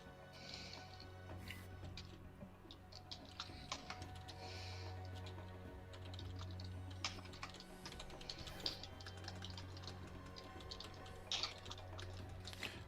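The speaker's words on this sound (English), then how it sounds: "I feel like my keyboard's really loud tonight" Fast, uneven clatter of typing on a loud computer keyboard, many sharp close key clicks in irregular bursts over a steady low hum, with no talking.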